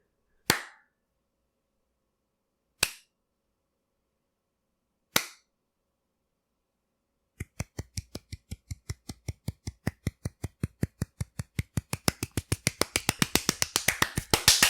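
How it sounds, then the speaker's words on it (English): Slow hand claps, three sharp isolated claps spaced a couple of seconds apart, then a long run of steady claps that gradually quicken and grow louder into a dense flurry, with no talking. "That was a whole fucking 35-second clap solo."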